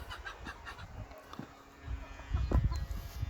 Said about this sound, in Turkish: Şöyle tavuklarımızı göstereyim.